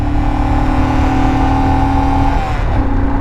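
A Royal Enfield Himalayan motorcycle engine drones loud and near, revs climbing steadily before the tone shifts and falls away toward the end, on a mountain road toward Everest Base Camp.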